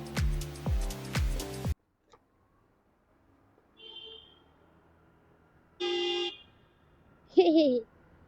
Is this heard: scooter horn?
yes